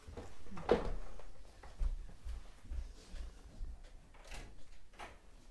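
A door clunks and rattles several times in a quiet room, with short knocks and soft bumps spread over a few seconds, fairly faint and without speech.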